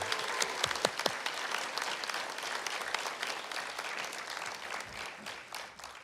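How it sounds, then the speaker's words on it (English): Applause for graduates at a college graduation ceremony in Fort Lauderdale, a few sharp near claps opening into broad, moderately faint clapping from a large seated audience that carries on steadily for six seconds before thinning out. "Let's honor our graduates with a resounding sound of applause again."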